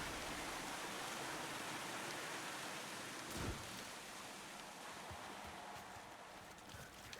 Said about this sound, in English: It's a waterfall. We gotta look behind it.